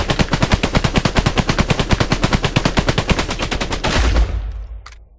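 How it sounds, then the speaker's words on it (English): Sustained automatic gunfire from a drum-magazine weapon in the VR shooter Exfilzone VR, a loud rapid burst of about four seconds that cuts off and trails away into a short echo. "Almost an entire drum mag into the chest with leg meta to shoot the armor through."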